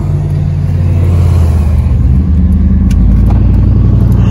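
A truck engine with its catalytic converters removed roars loudly and steadily, its heavy rumbling exhaust drone close and unbroken throughout.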